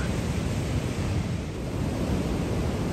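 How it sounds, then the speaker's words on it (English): Loud, continuous roar of Pacific Ocean surf breaking on the California shore, a dense wash of white noise with gentle surges and no voices. "The sights, the sounds, and the just awesome power of the Pacific Ocean."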